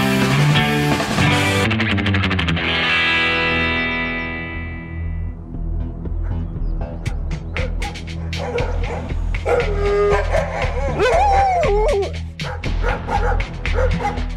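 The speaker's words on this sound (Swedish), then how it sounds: "Om det hörs hundskall i Kiruna ska man inte bli förvånad." Dogs barking in Kiruna, a run of repeated barks and yips mixed with processed, distorted effects and a tonal backing, loud and fairly close throughout.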